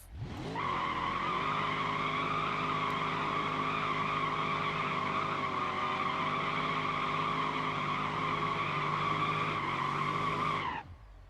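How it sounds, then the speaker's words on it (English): A sustained, loud tire squeal from a big-block-powered car doing a second-gear burnout in BeamNG.Drive, with engine drone under it, holding steady for about ten seconds before cutting off abruptly. "We need to see how good of a burnout this thing can still do, though"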